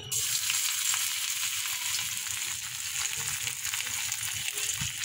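Ginger tossed into a hot pan while cooking Bengali ghugni, giving a steady close frying sizzle with light crackles and a low rumbling undertone, continuous and without talk.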